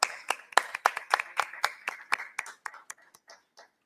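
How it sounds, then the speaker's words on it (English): A small group at a precision medicine conference applauds a panelist. Distinct, separate claps ring out close by, some of them overlapping, and they thin out and fade toward the end. "Let's welcome her with a round of applause."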